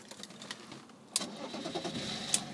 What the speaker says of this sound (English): no problem starting the vehicle at all